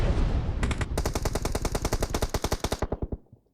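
Rapid automatic gunfire from the video game PUBG Mobile, a loud sustained burst of closely spaced shots that speeds up and then trails off into a few spaced final rounds, with no talking.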